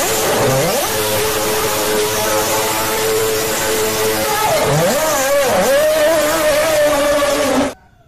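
A toy Formula One race car gives a whining motor sound with rising and falling pitch sweeps, steady and close, before cutting off abruptly near the end.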